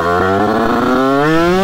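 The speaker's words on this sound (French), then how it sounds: "Du coup ça fait une coupure à l'allumage." A video game motorcycle engine buzzes loudly, briefly stuttering as the ignition cuts out from a missed shifter gear change, then the tone climbs smoothly as it revs on.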